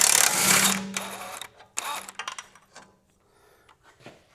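Impact wrench on a BMW 120D rear suspension nut: a loud broadband mechanical burst in the first second and a half, then shorter bursts and clattering hits as the nut comes free, fading toward quiet.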